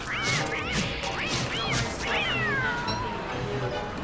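Catcoons in the Don't Starve Together video game meow repeatedly, a series of rising and falling cat-like calls over a steady background game hum, with no talk.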